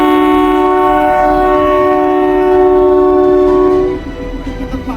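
The Kalka–Shimla toy train's horn sounds in a long, steady, multi-tone blast for about four seconds, loud and close, then cuts off leaving rumbling background noise.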